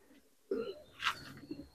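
Malwai pigeons coo softly, with one low throaty coo followed by a few brief faint calls against a quiet background.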